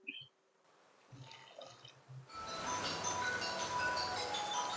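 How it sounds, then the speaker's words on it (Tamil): Dissolved jaggery water is poured through a strainer to catch grit, first with faint drips and clinks of a vessel, then a louder, continuous close-up stream of liquid splashing into a pot. "இப்ப வந்து இந்த வெள்ளை தண்ணியை நான் வடிகட்டுறேன்."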